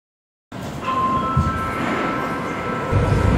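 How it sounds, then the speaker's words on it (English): A Moscow subway train rumbles steadily in an underground station, with a sustained tonal whine or squeal running over the low rolling noise; loud and continuous after a brief silent start. "I'm here in the Moscow subway system"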